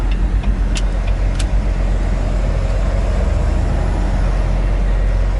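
Steady, loud road and engine drone from a 2019 Volvo VNL truck with a 12-speed manual transmission, empty on a Pennsylvania road, with a couple of brief clicks early on and no talk.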